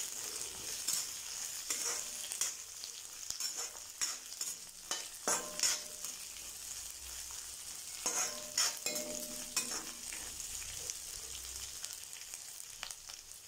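Green chilies fry in a pan for mint chutney, a soft steady sizzle broken by repeated scraping and clacking stirs of a utensil, close and fairly quiet with no talking.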